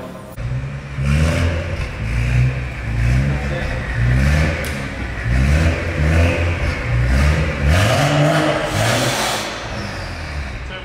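A BMW M135i engine revs repeatedly on a dyno, close and loud, with rhythmic rising pulls and drops over a steady mechanical whir.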